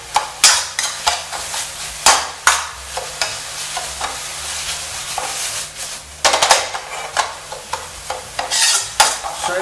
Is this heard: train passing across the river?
no